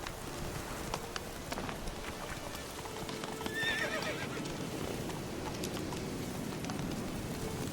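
Roach the horse in The Witcher neighs once amid steady clip-clop hoofbeats, with a soft rain-like patter over the trotting and no talk.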